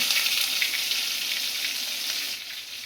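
Onion frying in a pan for a Bengali pona fish curry, a bright continuous hiss and sizzle close up, steady throughout and easing slightly at the end, with no talking.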